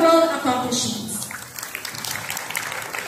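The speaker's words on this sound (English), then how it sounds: "Please join me in giving a thunderous round of applause and recognition of their" Audience applause for academic excellence awardees at a senior high school graduation ceremony, a broad steady patter that starts after a brief voice and holds at moderate loudness to the end.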